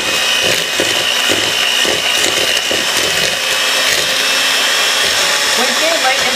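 Electric mixer creaming butter with granulated sugar for coffee cake batter, a steady, loud motor whir running continuously without pause.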